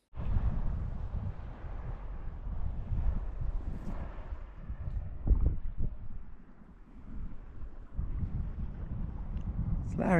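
Kayak paddling along the sea off the Yorke Peninsula, with low rumbling wind buffeting the microphone and a few soft paddle splashes near the middle.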